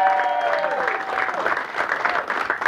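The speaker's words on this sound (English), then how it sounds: "Give him a round of applause." A crowd at a comedy benefit claps for CJ Bernie, dense applause sustained throughout, with an amplified voice talking over the opening and occasional whoops.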